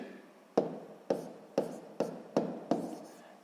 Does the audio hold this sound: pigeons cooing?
no